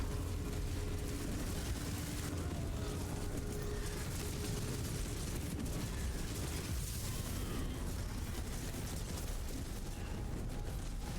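A corpse explosion spell detonating in a video game, a dense, continuous barrage of overlapping blasts and crackling bursts that stays loud and steady throughout.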